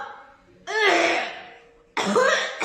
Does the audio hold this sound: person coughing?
yes